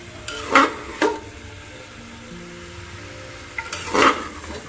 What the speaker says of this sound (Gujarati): હવે એની અંદર આ ગાજરને હું સાંતળી લઈશ ગાજર અને બીટ બંનેને